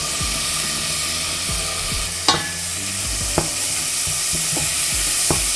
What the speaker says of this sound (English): we're going to add our mushrooms to the pot